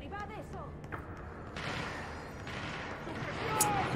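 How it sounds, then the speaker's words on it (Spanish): Gunfire from the video game Control breaks out in a few sharp, rough bursts at moderate loudness, mixed in with other game sounds and a faint voice. "¿Qué pasa? Hay balazos."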